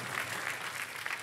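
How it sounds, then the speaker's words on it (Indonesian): A church congregation at a worship service applauds, a dense, even wash of many hands clapping heard for about a second, moderately distant. "Oh berikan tepuk tangan yang luar biasa buat Tuhan."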